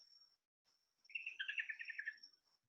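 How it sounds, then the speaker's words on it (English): Recorded birdsong over a faint, steady insect trill in a multimedia garden art installation: a quick cluster of bright chirps and warbles in the middle, with no talking. "birds and insect sounds that are recorded."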